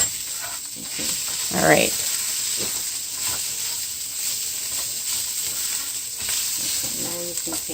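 Passover stuffing fries in a pan with a continuous hissing sizzle as it is stirred, scraping and shuffling through the mix, while a person talks briefly over it.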